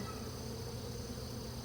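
A brief, steady hum of many honey bees rises from an open single-box hive with brood frames exposed, a continuous close drone without talk.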